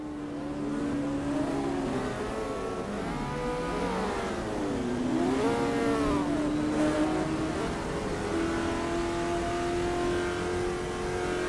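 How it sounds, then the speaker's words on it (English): A race car in a racing video game set at Daytona, engine firing up and revving repeatedly, the pitch sweeping up and down through several throttle blips before settling into a steady high idle, loud and close with no talk. "Start the engine."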